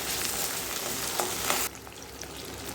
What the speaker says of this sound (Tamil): வெங்காயம் வதங்கினதுமே தக்காளி போட்டுக்கணும்.